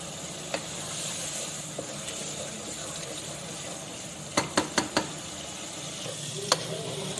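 Minced meat frying in oil in a pan, a continuous close sizzle with occasional spatula scrapes and a quick cluster of sharp taps against the pan near the end.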